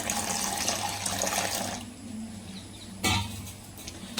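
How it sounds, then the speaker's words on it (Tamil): Plain water poured into a container while making fruit custard in a home kitchen, a steady splashing trickle that eases off, followed by a brief louder gush near the end. "தண்ணி வந்து சேர்த்துக்கிறேன்."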